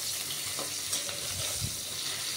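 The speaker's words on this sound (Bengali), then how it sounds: "এই কাঁকরোল ভাজছি" Spiny gourd (kakrol) fries in a pan with a continuous, close hissing sizzle and a few soft stirring scrapes.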